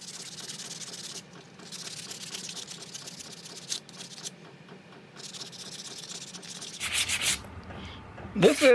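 A wooden spoon is sanded by hand with 120 grit sandpaper, giving steady close scratchy rubbing strokes in an uneven back-and-forth rhythm that swell louder and rougher toward the end.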